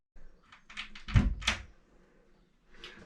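A bathroom door on a small boat is opened, giving a soft latch click, a wooden thunk and a brief creak close by, with nothing else around it.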